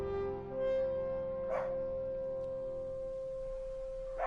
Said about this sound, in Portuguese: Meu cachorro tá latindo aqui.